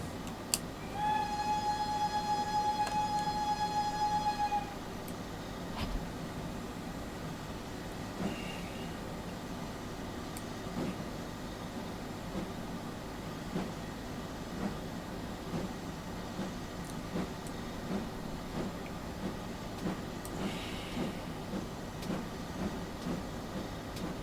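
A locomotive runs along the main line in the Train Simulator 2019 game, with a horn blast at the start over a steady rumble of rolling wheels and rhythmic clicks, moderately quiet and continuous.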